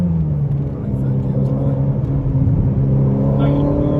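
A 1000 hp Ferrari SF90 Stradale lapping the Portimão race track, its engine droning loud and steady throughout at close range, with a voice speaking faintly over the cabin noise.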